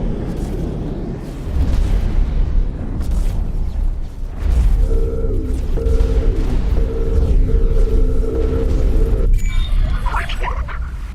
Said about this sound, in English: I'm too close to the explosion still, probably.